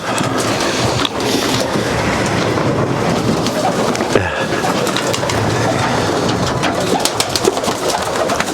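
Racing pigeons in a UK loft cooing steadily over a dense, continuous background din, many birds blending together with soft murmuring throughout.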